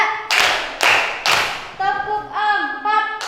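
A primary school class claps together in unison, three sharp, loud group claps about half a second apart, each one ringing briefly, followed by voices chanting a count.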